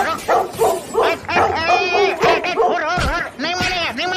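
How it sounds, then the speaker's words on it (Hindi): A dog yips and barks repeatedly at close range in a tense domestic scene, the bursts mixed with agitated human shouting and talk throughout. "भौंके चला जा रहा है।"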